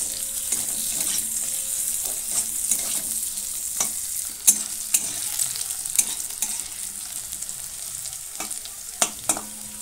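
Long-cut potato strips fry in a pan for a fish-bone chorchori, with a steady crackling sizzle broken by the sharp scrape and clack of stirring at irregular intervals, close and fairly loud, with no voices.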